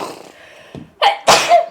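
A single sharp sneeze bursts out near the end, loud and close, after a moment of quiet room sound and soft background noise during a casual tabletop game session.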